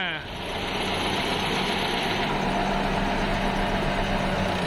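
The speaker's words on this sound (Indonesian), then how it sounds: "ini stasioner mesinnya" A rebuilt 1953 Willys M38A1 US Army jeep engine idles steadily close by, a smooth, even low rumble that holds constant throughout.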